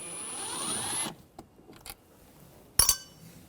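A T20 socket driver whirs for about a second, removing screws from the rear door of a 2009-2013 BMW 328i xDrive. A few faint taps and a sharp metallic clink follow.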